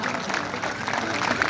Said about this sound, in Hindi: सरदार के सम्मान में ताली बजाइए जोरदार